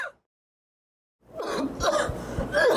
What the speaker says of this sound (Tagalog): Giubo na sad ka.